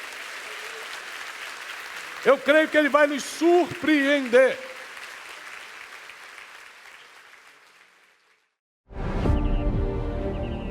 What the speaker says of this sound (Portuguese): E aqueles que creem, dêem um forte aplauso ao Senhor